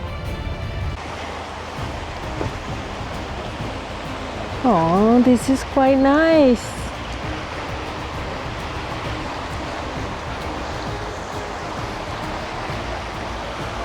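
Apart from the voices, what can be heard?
creek flowing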